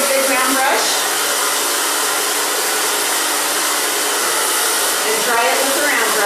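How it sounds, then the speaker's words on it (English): A hair dryer roars loud and close throughout as hair is blown dry over a big round brush. Brief soft speech can be heard near the start and end. "dry it with a round brush"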